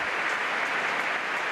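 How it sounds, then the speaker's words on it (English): A Stadium Court tennis crowd at a Halle semifinal applauds in a steady, dense wash of clapping that holds evenly throughout. "applauding along with the rest of this Stadium Court crowd"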